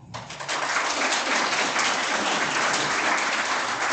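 An audience at a seventh and eighth grade school musical breaks into applause. The clapping begins abruptly and holds as a dense, steady wash of claps for about four seconds.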